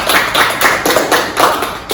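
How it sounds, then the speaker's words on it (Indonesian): A small group claps together in a short burst of rhythmic, fairly close applause, the hand claps coming in quick, uneven pulses for about two seconds. "Tepuk tangan dulu untuk mengapresiasi diri sendiri."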